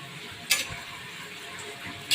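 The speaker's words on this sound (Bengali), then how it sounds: "এখন ইলিশ মাছ দিয়ে কাঁচকলা দিয়ে রান্না বসিয়ে দিয়েছে" Hilsa fish with green banana cooking in a pan give a soft, steady sizzle, broken by a couple of sharp spatters or stirring clinks.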